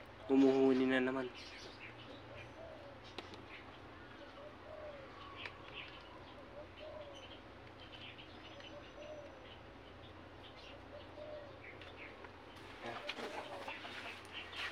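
Spotted doves cooing behind a house, soft repeated coos at moderate distance over steady outdoor background, with a louder burst of other noise at the start and near the end.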